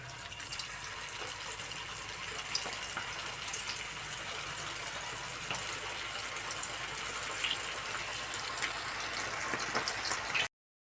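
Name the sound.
cabbage manchurian balls deep-frying in oil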